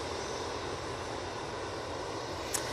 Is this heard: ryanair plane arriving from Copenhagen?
yes